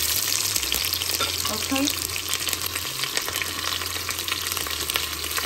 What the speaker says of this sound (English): as soon as you add the palm oil, add your diced onion.